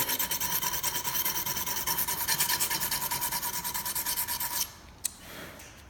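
A hand file sharpens the thin blade of a BTB scraper tool, close and steady, with quick rhythmic rasping strokes for several seconds, then a pause and a single sharp click.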